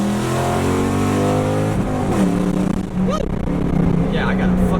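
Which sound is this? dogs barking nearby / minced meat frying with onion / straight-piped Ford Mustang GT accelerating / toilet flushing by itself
straight-piped Ford Mustang GT accelerating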